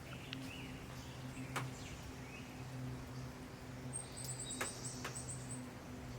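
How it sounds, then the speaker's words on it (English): Wild birds outside an aviary give faint, high chirps and short tweets in a quick run late on, over a low steady hum of background noise. "I can hear the outside birds well enough."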